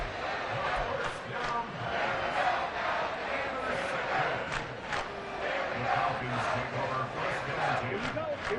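Stadium crowd in the Madden 23 football video game, with a loud, steady roar and cheering from a large crowd throughout, with speech blended into the din.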